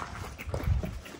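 Puppies whimpering after a fall, a short burst of soft, close whines and yips with no talk.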